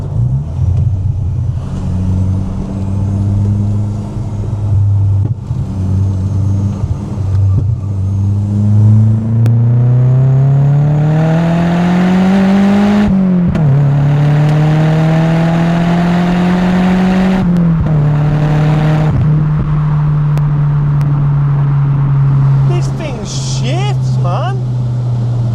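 A Golf MK2 GTI with an Audi S3 engine swap pulls hard, its engine note climbing steadily in pitch through a long run before easing off, loud and close throughout.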